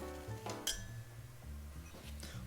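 Medium dried anchovies, about thirty of them, dropped into a pot, giving a few light clinks and small rattles against the metal, with quiet handling noises between them and no talk.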